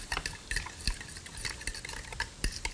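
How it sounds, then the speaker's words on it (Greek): Sautéed onions stirred in a pan for a meatloaf with bacon, quick scraping and clinking strokes of a utensil against the pan in an irregular rhythm, close, with a faint sizzle underneath and no talking. "Ανακατεύω λίγο αυτά."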